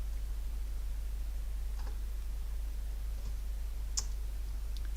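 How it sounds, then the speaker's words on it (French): A computer mouse gives a few sharp, isolated clicks against a steady low hum, quiet and close, with no talk. "clic droit souris"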